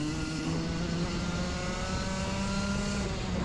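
A racing kart engine in a restricted-class race, droning steadily and close up, its pitch sagging slightly as the driver lifts off the throttle; no one speaks.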